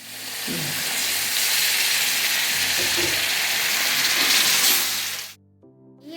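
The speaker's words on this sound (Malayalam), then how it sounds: "ഇനി നമുക്ക് വിനാഗിരി ഒഴിച്ചെടുക്കാം. 3 സ്പൂൺ വിനാഗിരിയാണ് ചേർത്തെടുക്കുന്നത്." Vinegar hits a hot pan of Kerala-style garlic pickle and erupts into a loud, close sizzle with hissing steam and stirring, holding strong for about five seconds before cutting off abruptly.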